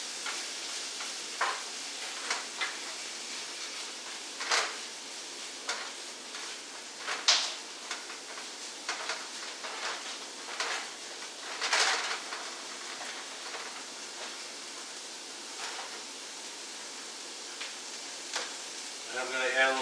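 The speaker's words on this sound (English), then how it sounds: "Okay, so I'm continuing to saute the onions." Chopped onions sauteing in a pan for chopped liver make a faint, steady sizzle with scattered stirring clicks and scrapes near the stove, with no talking over it.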